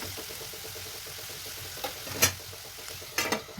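Chopped vegetables stir-fry with a pinch of salt in a pan for leftover roti noodles, a quiet continuous sizzle broken by a few sharp clinks and scrapes of a utensil against the pan.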